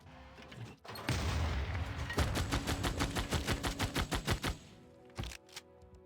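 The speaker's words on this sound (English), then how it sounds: "Now this artillery army needs to fire, as does this one." Artillery fire in Civilization VI comes as a rapid rattling volley of sharp, evenly spaced shots, dense at first and then separating into distinct cracks, followed by a few scattered later bangs, all fairly faint.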